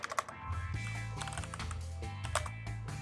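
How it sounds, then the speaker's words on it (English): Fingers type on a computer keyboard in short, quick bursts of clicking keys, close and fairly quiet. "So if I type something,"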